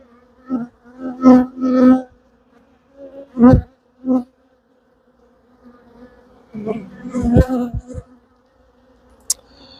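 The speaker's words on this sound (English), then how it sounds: "Bees are really good at making more bees." Honeybees buzz during a hive inspection in the rain, loud close-up drones rising and falling in short irregular bursts with quiet gaps between them.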